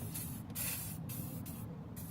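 WD-40 aerosol sprayed onto a crusty steering universal joint of a Toyota MR2, steady close hissing bursts broken by a few brief pauses, alone without talk.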